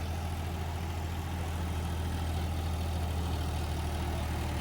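A John Deere tractor engine pulls an 8-foot rotavator through soil with a steady, loud low-pitched drone and no breaks in the sound.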